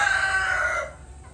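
A rooster crows loudly and close by, one long drawn-out call that fades near the end, with faint farmyard noise beneath.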